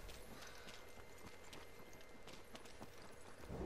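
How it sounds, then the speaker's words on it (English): Rapid, even enemy footsteps in the battle royale game Apex Legends, a busy clatter of many quick steps running steadily through the whole stretch under a dense game soundscape. "their footsteps are so loud now"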